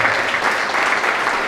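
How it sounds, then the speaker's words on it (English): An audience applauds at a cannabis dispensary ribbon cutting ceremony, giving dense, continuous clapping from a crowd throughout. "Another round of applause."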